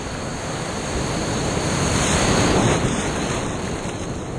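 Ocean surf breaks and washes in a broad, hissing roar, swelling in the middle and easing off, with some wind buffeting the microphone and no voices.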